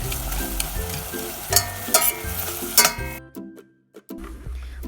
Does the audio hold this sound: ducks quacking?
no